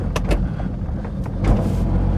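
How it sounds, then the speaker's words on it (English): A Smart Fortwo with a boost leak drops into limp mode while driving, its engine a low, steady drone with a couple of brief higher whooshing surges, heard close from inside the car. "That's the car going into limp mode again"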